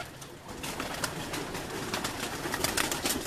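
Several pigeons coo steadily at a pigeon keeper's loft, joined by a few soft rustles and wing sounds.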